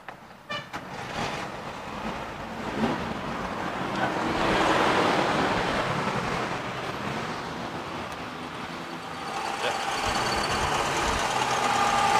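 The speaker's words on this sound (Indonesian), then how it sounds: "Ini suara langsamnya mesin Suzuki Katana, dia pakai 1000 cc" A 1993 Suzuki Katana GX with a 1000 cc F10A engine idles with a steady, noisy rumble that swells slightly in the middle and runs for about twelve seconds, with no voices.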